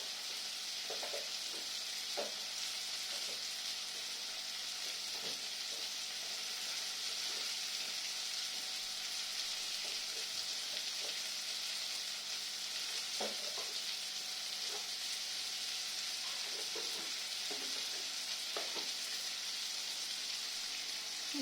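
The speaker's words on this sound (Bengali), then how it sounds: "এবারে সব কিছু ভালো করে কষে নেব" Spices with turmeric and garam masala frying and being stirred in a pan, a continuous close sizzle broken by repeated spatula scrapes and taps throughout, with no voices.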